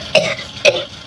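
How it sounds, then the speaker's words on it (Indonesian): Two sharp coughs, about half a second apart, from a nearby adult man, each a short burst trailing off quickly, with no talk around them. "Lu kan jadi batuk gua gara-gara baca ini."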